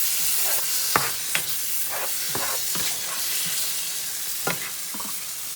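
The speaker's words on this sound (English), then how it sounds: "So we will let the paneer pieces cook a little bit more." Paneer pieces cooking in curry gravy in a pan, a steady, bright hissing sizzle with occasional soft stirring knocks, close and continuous.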